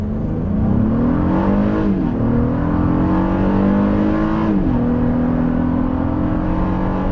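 A 2024 Honda Passport accelerates hard from 0 to 60 at high elevation with two adults aboard, engine note rising steadily through two upshifts, a loud, close cabin drone with no talk.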